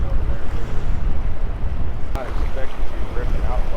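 A north wind blows hard at the water's edge on a fishing trip, a loud continuous buffeting rush over the microphone with lapping water beneath.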